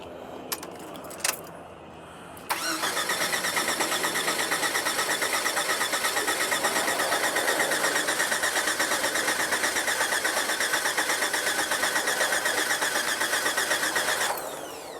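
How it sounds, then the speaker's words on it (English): Keys jangle briefly, then a car engine cranks on a UIBI S600 jump starter and catches quickly. It settles into a steady, loud idle that runs for over ten seconds before cutting off. "So that cranks this almost as fast, if not faster, than the original battery"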